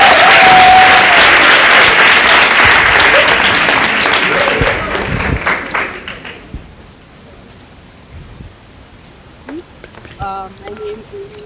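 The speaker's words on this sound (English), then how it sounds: "Please give them a round of applause." Audience applause at a maritime open day, a loud dense burst of clapping from a crowd that gradually thins and fades after about six seconds, leaving scattered claps and faint background sounds.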